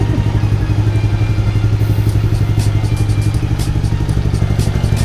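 Motorcycle engine fitted with an ENUSIC CJ720 GPS alarm, running at a steady rhythmic idle with clattery pulses throughout, close and fairly loud, no talking.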